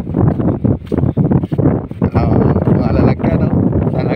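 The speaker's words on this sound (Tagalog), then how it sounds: "naririnig niyo yung hangin" Strong wind roars and buffets the microphone aboard a small fishing boat at sea at night off Polillo Island, a steady loud rush with gusts, while people talk over it.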